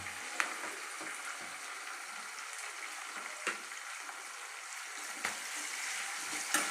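Onions and green chillies frying in a pan for Telugu-style cabbage fry, giving a steady soft sizzle throughout with a few brief clicks and stirring knocks. No one speaks.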